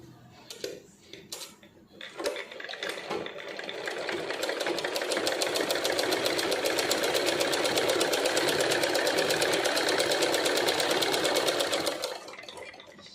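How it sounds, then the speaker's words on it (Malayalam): A sewing machine stitches a silk skirt lining, starting with a few handling clicks, then running in a fast, steady close-up whir of needle beats for several seconds before stopping. "ആദ്യം തന്നെ നമ്മൾ ഈ ഒരു ഭാഗം കൂട്ടിയടിച്ച് കൊടുക്കാം കേട്ടോ."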